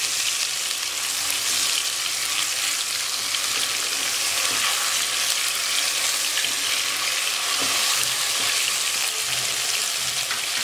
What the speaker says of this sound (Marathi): यात आता आपण 1 टेबलस्पून आलं लसूण वाटण टाकलंय, तेही छान परतवून घ्यायचंय